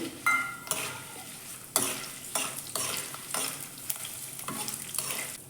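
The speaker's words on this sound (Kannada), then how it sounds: "ಪುಟಾಣಿ ಹುರಿತಾ ಇರೋ ಹಾಗೇನೆ ನಾನು ಕರಿಬೇವಿನ ಸೊಪ್ಪನ್ನು ಹಾಕೊಂಡ್ಬಿಟ್ಟು ಹುರ್ಕೋತಾ ಇದ್ದೀನಿ" Chickpeas, curry leaves and dried chillies roast in a pan, a close crackling sizzle punctuated by repeated loud scraping bursts as they are stirred, uneven in rhythm and with no voices.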